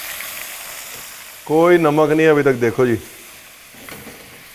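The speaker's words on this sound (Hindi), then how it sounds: "अभी मटन को थोड़ा सा अपना घी तेल छोड़ने दीजिए" Mutton fries in ghee and oil in a pan while a Punjabi mutton curry is made, a soft steady sizzle running underneath a person talking close by.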